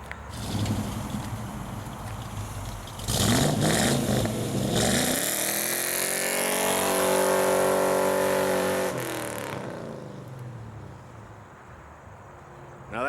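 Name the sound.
1995 Ford Mustang Boss Shinoda engine revving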